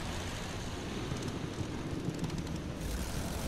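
Steady droning roar of a fighter plane engine in the World War I combat game Battlefield 1, broadband and continuous with wind-like rush, no speech, holding at a constant level throughout while chasing a bomber.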